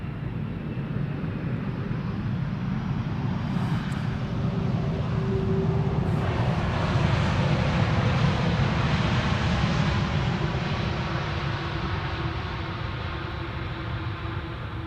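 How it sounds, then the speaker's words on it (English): A KLM airliner lands at Schiphol Airport with idle reversers, a steady, broad roar of jet engines heard from a distance that swells slightly midway and holds throughout, with no talk. "Subdued landing, idle reversers, as almost always."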